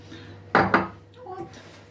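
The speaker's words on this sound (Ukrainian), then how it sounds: "вимішуємо з горішками" Cake batter with nuts being mixed in a bowl for a jam and nut pie: two sharp, close clinks of a utensil against the bowl, then softer scraping with a faint voice in the background.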